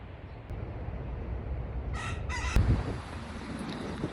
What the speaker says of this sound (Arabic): جه منين الديك ده؟